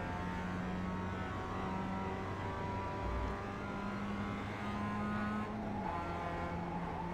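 Mazda race car engine in a racing video game, a loud continuous buzzing drone holding steady with small dips and rises in pitch as the car is driven around the track.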